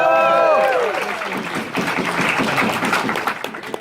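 Round of applause from a fan convention audience at opening ceremonies, steady crowd clapping and cheering that follows a fading musical tone, with crowd noise mixed in throughout.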